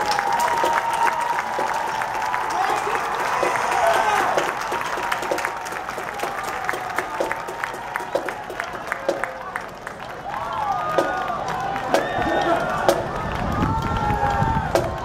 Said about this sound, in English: big round of applause for our JV marching band